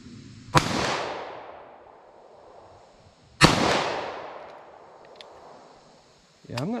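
Two sharp, loud pistol shots from a short-barrel 9mm firing Federal Train+Protect ammunition ring out about three seconds apart, each followed by a long echoing decay, with a faint rustle at the end.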